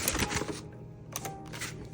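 A vintage typewriter is worked by hand as its paper is wound back out, giving close mechanical clicks and ratcheting clatter in short bursts with quieter gaps between them.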